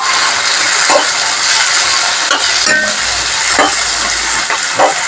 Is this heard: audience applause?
no